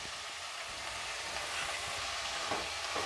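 Onion with crushed ginger and garlic sizzling and being stirred in a pan, a steady close hiss of frying with faint scraping from the stirring, no voices.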